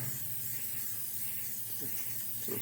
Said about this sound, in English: I'll spray this down real quick